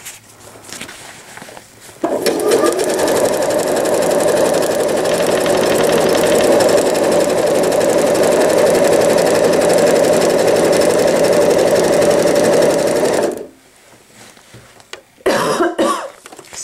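A sewing machine runs steadily while stitching a pail liner, its motor whirring loudly for about eleven seconds before stopping, followed by a brief quiet stretch and a short cough.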